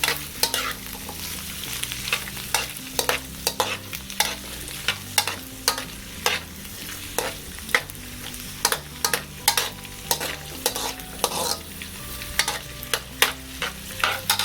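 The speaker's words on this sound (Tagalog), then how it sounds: "umpisahan na po nating gisahin itong ating sibuyas na pula. Hahaluin po natin to." Chopped red onion sautés in a pan while a utensil stirs it, producing a constant sizzle punctuated by rhythmic, closely spaced scraping strokes, with a low musical hum underneath and no voices.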